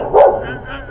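A dog gives a single short, sharp bark close by, followed by a faint whimpering tail against background noise.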